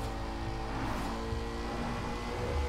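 Koenigsegg Agera RS engine in the racing game Forza Horizon 4, a steady loud high-revving drone with layered engine tones accelerating through gears, continuous and close throughout.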